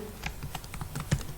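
Keys clatter on a computer keyboard as HTML table code is typed, a quick uneven run of close, light taps.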